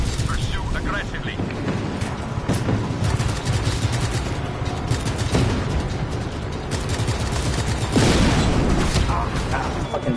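Sniper fire and other gunfire from the open-world video game Just Cause 3 crack and boom continuously through a dense, loud battle mix, with a bigger blast near the end and talk mixed in.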